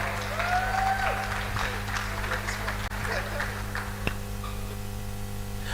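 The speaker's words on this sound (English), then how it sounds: "Please, a round of applause for Ade as he comes up" Audience applause at a conference session as a speaker comes to the stage, diffuse clapping under a steady low hum, with a brief squeal near the start and an isolated sharp knock later.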